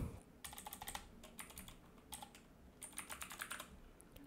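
Quick bursts of keystrokes on a computer keyboard as a database name is entered, soft close clicks in short runs separated by brief pauses, no voices.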